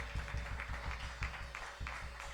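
A church congregation claps together as an offering of praise during a Spanish-language sermon, a steady, fairly loud patter of many hands with rhythmic pulses and no talking over it.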